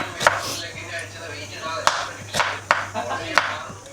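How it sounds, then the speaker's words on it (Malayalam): A knife chops onion on a cutting board for salad while biryani cooks. Several sharp, separate strikes land at an irregular pace, close and clear over a faint background hum. "അതിന് വേണ്ടിയിട്ട് സവോള അരിയാണ് ഞാൻ"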